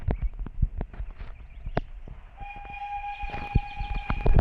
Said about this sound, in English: Follow the whistle